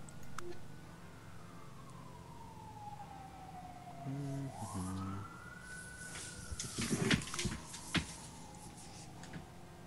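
Siren wails from emergency vehicles in the video game Moebius, a rising and falling tone sweeping across the scene with horn-like bursts and clattering game sounds in between, at moderate loudness.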